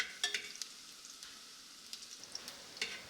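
Sliced onions frying over high flame in a 2-litre pressure cooker, a soft steady sizzle broken by light scraping and clinks as they are stirred, close and quiet.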